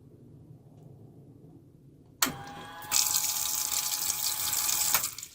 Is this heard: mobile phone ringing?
no